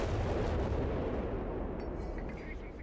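Heavy gunfire from an anti-tank half-track in the video game Company of Heroes 3, a dense, booming carpet of rumbling shots and blasts that continues throughout and fades slightly toward the end.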